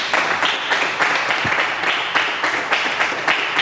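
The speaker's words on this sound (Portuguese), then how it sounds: "Uma salva de palmas para mim" A TV show audience claps for a doctor guest, producing a loud, continuous burst of many hands clapping with slight rhythmic surges and no voices on top.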